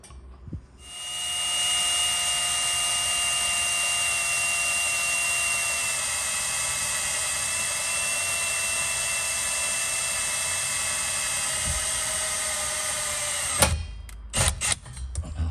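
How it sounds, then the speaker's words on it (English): A power drill with a small pilot-hole bit whines at a steady high pitch for several seconds, then stops, followed by a few clunks and knocks. "now we're gonna take our drill, our little pilot hole drill bit, and we're gonna drill a hole right here."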